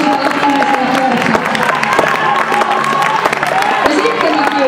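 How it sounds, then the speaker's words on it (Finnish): A crowd applauds and cheers for a runner after an 800 m youth athletics race, the steady clapping continuing throughout beneath a commentator talking over it. "varmasti saa ansaitsemansa aplodit"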